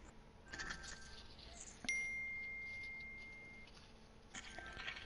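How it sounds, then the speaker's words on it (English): A single bright iPhone notification ding sounds faintly partway through, its thin tone lingering for a moment over quiet room noise during a gaming livestream. "Nice notification from your iPhone."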